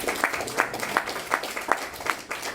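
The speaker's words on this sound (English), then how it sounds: "How about a round of applause firstly to the riders?" Audience applauding riders at a post-championship Supercross press conference, a steady wash of clapping at moderate distance with regular louder swells, no voices over it.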